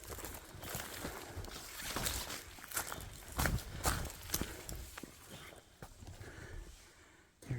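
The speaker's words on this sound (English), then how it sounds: "You can hear him stomping up there." A person stomping through dense bush off a trail, a series of irregular crunching footfalls and snapping brush at a moderate distance, faint and continuous against rustling background noise.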